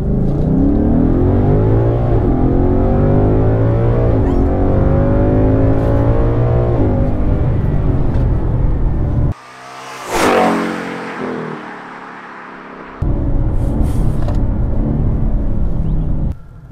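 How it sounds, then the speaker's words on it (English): An Audi S5 in sport mode launches hard on a 0-60 run, its engine note climbing loud and close through the gears, then cutting out with a gear change before the revs build again. Wind rushes briefly during the shift gap. "So here we go, 0-60, standard run, sport mode. Here we go, foot on the brake, get some revs up"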